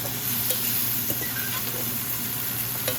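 Red bell peppers sizzle steadily in a pan during a quick stir-fry, a constant hiss with faint scraping of stirring, no talking.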